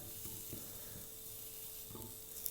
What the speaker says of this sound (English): Can you hear that nice sizzle?